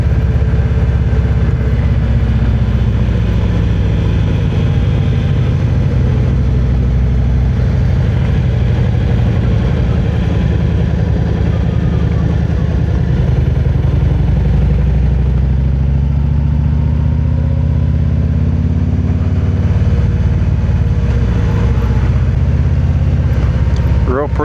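A motorcycle engine drones steadily while riding on a warm August day, loud and continuous with heavy rumble and wind noise, and a voice talks over it.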